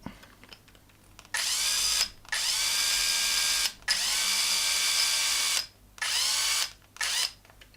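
A low-voltage power driver runs screws into plastic in several whirring bursts of a second or two each, separated by short pauses, loud and close, without speech.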